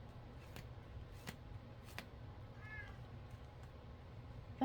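A pet cat meows once, a short wavering cry over steady low background noise, with a few faint clicks around it; no one speaks.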